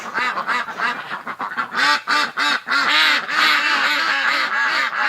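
A flock of ducks quacking loudly in a yard, dense overlapping calls in rapid bursts that build into a near-continuous noisy chorus close by.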